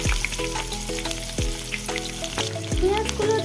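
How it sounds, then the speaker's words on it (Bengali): Onions fry in a pan with a constant hissing sizzle, heard under melodic background music. "পেঁয়াজগুলো দিয়ে আমি বেশ কিছুক্ষণ ধরে ভেজে নেব"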